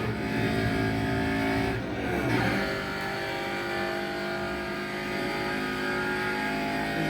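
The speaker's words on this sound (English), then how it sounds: "the car will shift to the next gear, and the next gear, and the next gear," A video game car in Burnout Paradise drives flat out, its engine droning loudly and continuously with a brief dip and rise in pitch as it shifts gears, then holds a steady high-revving whine.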